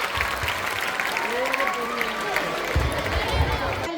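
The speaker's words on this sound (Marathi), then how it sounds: "एकदा जोरदार टाळ्या होऊन जाऊ द्या" Audience applause at a school annual gathering, a dense sustained clatter of many hands clapping in a hall, with scattered voices and crowd murmur mixed in throughout.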